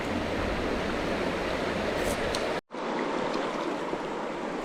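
A river in a gorge in Kalbarri National Park rushes steadily in a continuous broad roar of flowing water, briefly cut to silence midway before resuming.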